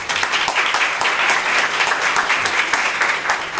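An audience at a Harvard Medical School lunch lecture applauds to welcome speaker Dr. Robert Brooks, with dense, steady clapping from many hands filling the room at a loud level throughout.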